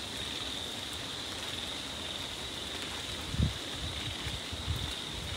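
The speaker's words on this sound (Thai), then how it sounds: "ฝนตกเล้งเลย" Steady rain falls outdoors at night, a soft even hiss with a high insect-like whine above it and a couple of faint low thumps, no talk.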